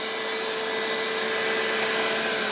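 A robot vacuum cleaner, a Laresar Mars01, runs with a continuous whirring hum and a steady whine on top, at close range.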